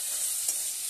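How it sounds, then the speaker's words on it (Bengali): Onion and tomato frying in a pan with salt, a brief close hiss of sizzling oil with a light stir in the middle. "আর ভালো করে একটু ভেজে নিচ্ছি পেঁয়াজ আর টমেটোটাকে"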